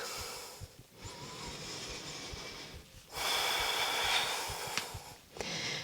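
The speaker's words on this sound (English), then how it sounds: "settling in for 5 deep breaths" Deep breathing during a warrior two yoga pose: slow, audible inhales and exhales in long swells, close and fairly quiet, with a breath-holding pause between, no speech.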